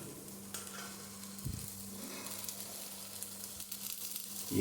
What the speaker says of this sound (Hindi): बस हल्का सा सौटे करना है इसको